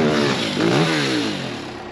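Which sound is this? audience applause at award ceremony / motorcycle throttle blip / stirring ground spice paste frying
motorcycle throttle blip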